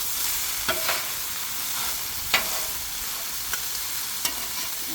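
Onions frying in butter on a Blackstone flat-top griddle while making chicken hibachi: a steady, close sizzle with a few sharp spatula scrapes and taps scattered through it.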